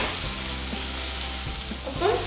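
Onion and chopped tomato sauté with curry leaves in a non-stick pan for an egg roast masala, a steady close sizzle with soft stirring scrapes that swell briefly near the end, no talking.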